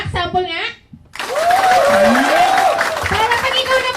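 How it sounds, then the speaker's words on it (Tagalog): An audience at a business presentation claps and cheers in a full, sustained burst of applause after a brief spoken prompt, with voices and whistles riding over the steady clapping. "ready na ba sa palakpak? Sample nga?"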